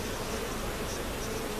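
A honey bee swarm buzzes at a hive shortly after transfer from a nucleus box, a dense, steady, close hum throughout with no voices.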